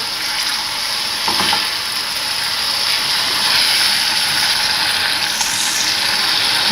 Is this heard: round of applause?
no